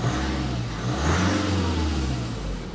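Changan Hunter 2.0 turbo diesel engine on a 2026 double cab 4WD automatic pickup, revving up loudly with a gruff, tractor-like mid-pitched roar that swells and settles, close and alone.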